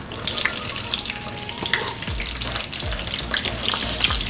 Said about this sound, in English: We'll fry the onion until it's light brown in color.